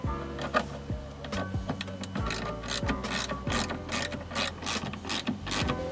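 A ratchet clicks steadily as two Torx 25 screws are undone from the boot solenoid cover on a Fiesta MK6, close up, in repeated bursts of rapid pawl clicks with no talking.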